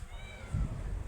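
A cat meows once, a short mid-pitched call standing out briefly over a quiet indoor background.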